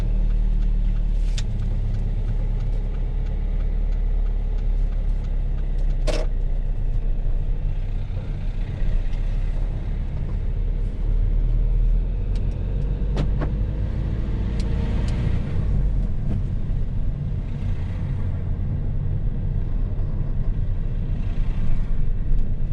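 A learner driver's car pulls away and drives along a UK road during a mock driving test, its engine rumbling steadily with close, continuous road and tyre noise and a few brief knocks.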